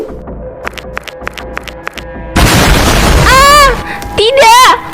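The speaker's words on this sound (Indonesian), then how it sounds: "Motor kesayangan aku meledak." A cartoon-style motorbike explosion bursts in as a sudden loud roaring blast after a series of light ticks, holding as a noisy rumble while exaggerated wailing voices rise over it.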